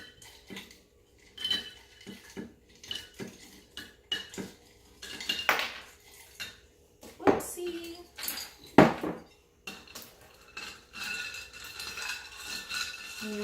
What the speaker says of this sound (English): Once you stir it all up, you're gonna go ahead and put your ice.